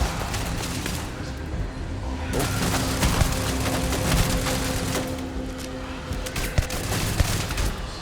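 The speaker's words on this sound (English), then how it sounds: "I think the turrets are taking out a bunch of these things." Rapid bursts of video game turret fire crackle and boom continuously over a dense, noisy battle din, with sharper shots standing out toward the end.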